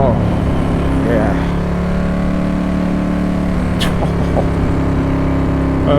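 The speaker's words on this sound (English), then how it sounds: "1996 Ducati 916 in its red dress, to show itself off in all of its glory" A red 1996 Ducati 916 motorcycle engine runs loud and close, a steady rumble with a faint rise in revs, carrying on unbroken throughout with no voices over it.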